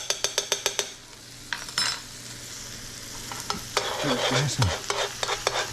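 Minced garlic sizzles in a pan after a quick series of rhythmic taps of a utensil on the pan, with stirring scrapes and a short spoken remark layered over the frying.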